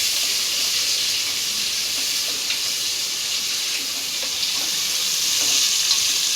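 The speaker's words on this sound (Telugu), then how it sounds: "ఆనియన్ వేసుకొని బాగా కలిపేసుకోవాలి." Onions being stirred into mutton curry in a pan give a steady, close sizzle and frying hiss with soft scraping of the stirring, continuous and fairly loud throughout with no talking.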